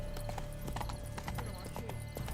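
Horse hooves clip-clop at a quick gallop in The Witcher 3: Blood and Wine, a steady rhythmic beat under a low game soundscape with faint voices, moderately quiet.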